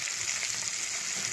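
Mustard seeds, cumin, dry red chillies and curry leaves hitting hot oil for tempering dal produce a continuous dense hiss of sizzling, close and steady throughout, with no voices.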